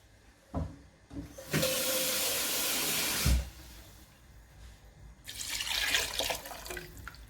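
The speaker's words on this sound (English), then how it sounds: "Add some water." A brief, loud rush of water pours into a pot of okra soup with meat for about two seconds, followed by softer sizzling and bubbling.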